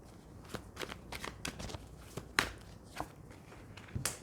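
Tarot cards are shuffled close by in a quiet room, a series of short crisp riffling bursts at an irregular rhythm, one slightly louder in the middle.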